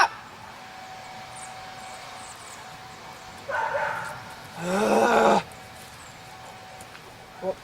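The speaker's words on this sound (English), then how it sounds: "Neighbor's dog's barking." A neighbour's dog barks in two loud bursts in a backyard, the second one longer, against a quiet outdoor background with a brief thump at the end.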